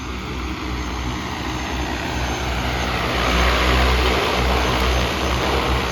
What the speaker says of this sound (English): the drone will just stop and hover in place